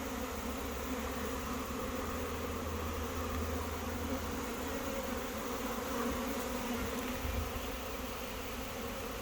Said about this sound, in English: The hive that's in the middle of the coffin hive, there's 5 total hives there, just swarmed